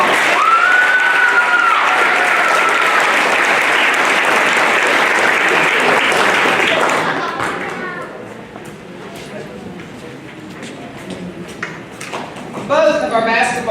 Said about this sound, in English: Let's give these volleyball players another round of applause.